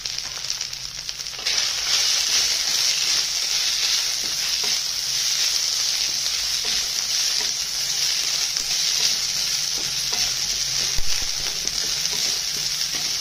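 Finely chopped large onion sautéing in a pan, the start of a cluster bean dry sabji. A loud, bright, hissing sizzle kicks in after a quiet first second and holds steady, with occasional faint stirring scrapes.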